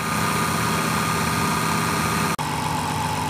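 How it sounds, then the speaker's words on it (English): A distributor test machine motor runs at idle on electronic ignition, a steady even mechanical hum with fine vibration, close and unchanging apart from one brief dropout. "The machine is currently running on the electronic ignition."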